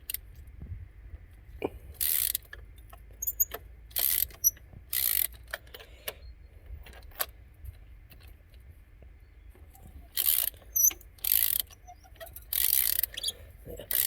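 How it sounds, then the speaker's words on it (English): A ratchet tightens bolts on car brakes in a quiet garage, short bursts of rapid clicking that come and go with pauses and scattered taps between them. "I just use the ratchet."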